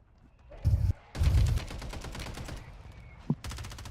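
Video game gunfire cracks out in a few short, loud bursts of rapid shots separated by brief pauses, close and punchy with a faint voice in the background.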